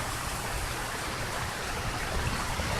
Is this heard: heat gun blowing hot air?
no